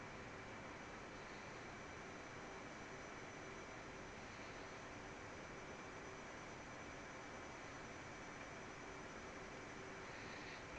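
Steady, loud jet engine roar from a military jet in the DCS flight simulator, a continuous broadband rumble and whine that holds level throughout with no speech.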